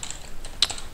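Quick, light keystrokes tap on a computer keyboard, a handful of crisp clicks spaced irregularly with one sharper key press, close and fairly quiet, no voices.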